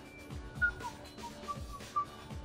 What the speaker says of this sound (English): Are you whistling?